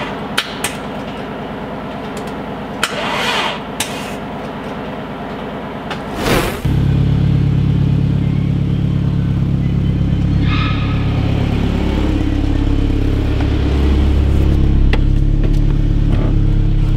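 A Nissan S13 car engine starts up in a workshop after a few clanks and knocks, then settles into a steady, close, loud idle with some rising revs, no talk.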